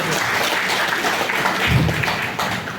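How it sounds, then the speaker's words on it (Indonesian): Dense, steady applause from the audience at a school principal handover ceremony at a junior high school in Medan, sustained crowd clapping filling the whole short span. "Tepuk tangan Bapak Ibu."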